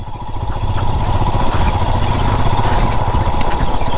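A motorcycle engine runs steadily and close during an off-road ride toward Fusrey lake near Kalimpong, holding a continuous rough drone with rattling clatter and no gaps for the full four seconds.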